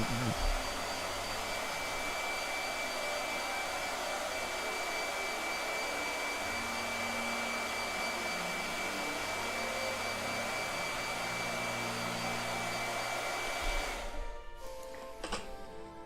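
A blow dryer runs steadily and loudly for about fourteen seconds, a constant whooshing hum with a faint whine, during a figure-painting session, then cuts off abruptly, leaving a short stretch of quieter clatter.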